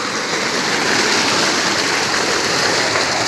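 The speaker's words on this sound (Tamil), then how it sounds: "இதுதான் நம்ம கிணறு மோட்ரு." Water gushes continuously from a well pump motor, a loud, steady rushing roar with no pauses and no voices.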